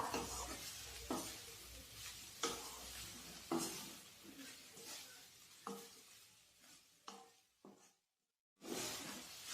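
Salt is mixed into a dry fenugreek leaf dish with peanuts in a pan, making a series of close, scraping stirs over a quiet sizzle, with a short silent gap near the end.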